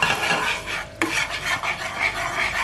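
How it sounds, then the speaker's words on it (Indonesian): Bird's eye chilies stir-fried in melted butter in a pan, a steady hiss and scraping stir running throughout with one sharp utensil knock near the start. "masukin cabai rawitnya. Ikut ditumis supaya nanti nggak terlalu pedas rasanya"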